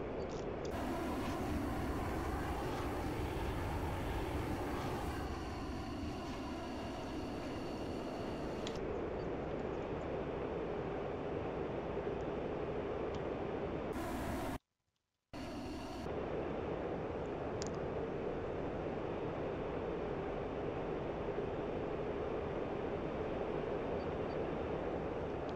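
Mirage jet in flight in the DCS combat flight simulator, a steady broadband engine and airflow roar that stays loud throughout, with a short cut to silence midway.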